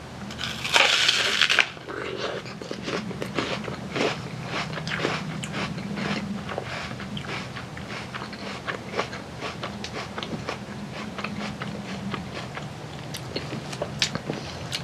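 Close, crisp bites into a hard Evercrisp apple, followed by steady, repeated crunchy chewing that continues throughout with no talking.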